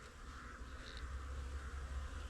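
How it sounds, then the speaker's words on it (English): Honeybees in a hive after a trickle treatment of Api-Bioxal solution, giving a faint, continuous low buzzing drone with no voices. "As you can see, the bees are a bit feisty"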